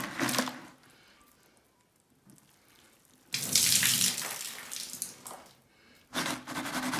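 Water flushes out of open, fragile, rusty cellar sewer pipes into a bucket, coming in loud splashing gushes separated by quieter pauses, with a strong, close burst in the middle and another at the end.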